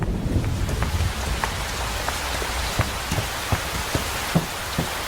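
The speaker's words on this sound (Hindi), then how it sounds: "आ जाओ, बारिश आने वाली है, अंदर चलते हैं।" Rain falls steadily on a surface, with a dense patter and distinct heavier drops tapping at irregular intervals, close by.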